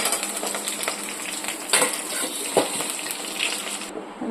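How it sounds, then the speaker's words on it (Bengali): Potatoes fry in hot oil with a close, steady sizzle, broken by a few sharp clinks and scrapes of a utensil against the pan before the sound cuts off. "তেলে এইভাবে আলুগুলো ভেজে নেবো।"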